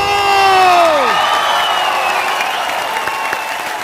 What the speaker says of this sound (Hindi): तो आप सबकी जोरदार तालियों के बीच मैं इनवाइट करना चाहूंगा one and only superstar mister Salman Khan.